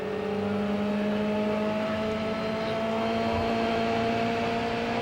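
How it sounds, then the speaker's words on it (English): A CART Indy car at the 1995 Michigan 500 runs at speed, its engine a steady, loud, continuous drone with a sustained high whine and no voices over it. "He's just working his car back and forth now, feeling to make sure he doesn't have a tire going down."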